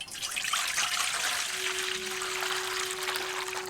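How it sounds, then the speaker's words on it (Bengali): Water poured into a basin for washing soya chunks in a Bengali village kitchen, a steady splashing, trickling stream running continuously at close range. "গামলার মধ্যে জল দিয়ে দেবো।"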